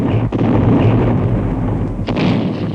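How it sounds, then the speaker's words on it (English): Heavy artillery guns of the Great War fire in a loud, dense rumble, with two sharp blasts standing out over the continuous booming barrage. "The clamor of the guns went on."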